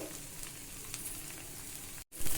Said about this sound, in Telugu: మళ్ళీ దోశ కాలుతుండగా కొంచెం ఆయిల్ అయితే వేసుకోవాలి.